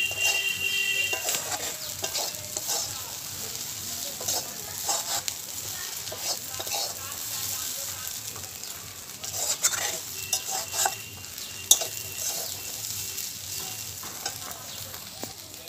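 Potatoes fry in oil for aloo katli, a steady sizzle running throughout under frequent spatula scrapes and clinks against the pan, close by, with no talk.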